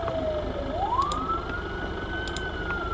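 A police siren in the video game BeamNG.drive wails, its pitch sliding downward and then sweeping up into a long, steady tone over a low rumble of engine noise.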